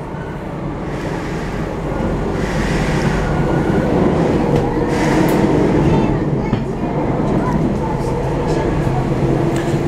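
A Paris Metro line 13 MF 77 train, car M30155, rumbles steadily at full loudness while running between Les Courtilles and Invalides. The sound is continuous interior rolling noise with faint rail clatter, and a voice talks over it.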